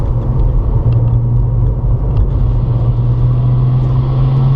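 A Porsche 997 Targa 4S on the Circuit de Bresse track gives a continuous deep engine rumble from inside, with its tone firming and rising as it accelerates.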